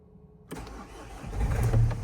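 A cold 2014 Renault Trafic 2.0 diesel van engine cranks and fires up after a brief quiet moment, settling into a steady, low, rumbling idle close by.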